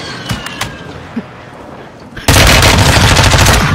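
Gunfire in Call of Duty Warzone on the Vondel map: a few scattered distant shots, then a sudden loud, sustained rapid burst of automatic fire filling the rest of the moment.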